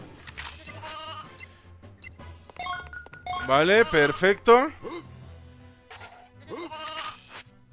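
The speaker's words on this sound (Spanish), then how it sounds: "Vale, ahí está otra oveja." Sheep bleating in the PS1 video game Toy Story 2, a loud wavering bleat mid-clip and a fainter one later, alongside someone speaking and game music.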